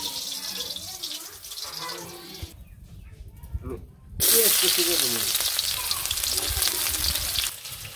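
Fish frying in a pan, with a strong continuous sizzle and hiss that briefly drops away, then returns louder and crackling as the pieces are moved.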